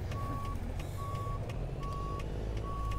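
A Peterbilt 389 truck in American Truck Simulator sounds its reversing alarm, four evenly spaced steady beeps over a loud low diesel engine rumble.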